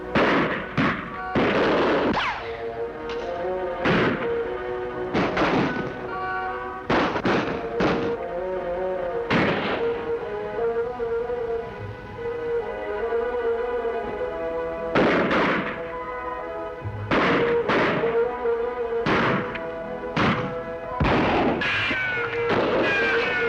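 Gunfire in a western TV episode, many sharp loud shots in irregular clusters ringing out over a sustained music score.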